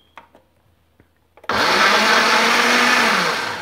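A blender chops picadillo ingredients with cilantro, starting abruptly after a few small clicks and knocks, then running loud and steady as a close, dense motor-and-blade roar that eases slightly near the end.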